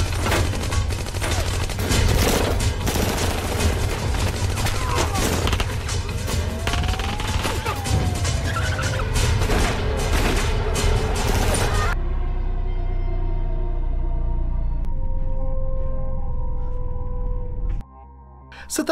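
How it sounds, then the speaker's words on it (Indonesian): Gunfire from a film scene with a fake policeman's pistol: a dense stretch of rapid, loud shots and crashes over a heavy music score, then the shooting stops and the music carries on alone. "sengaja menembakinya kembali oleh pistol milik si polisi gadungan agar Sen terhindar dari tuntutan"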